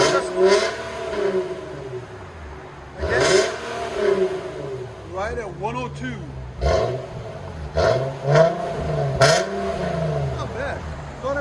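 An Infiniti G37 with a 3.7L V6, resonator delete, 4-inch tips and a stock muffler revs repeatedly, each blip rising to a raspy roar and falling back to idle, with people talking over it.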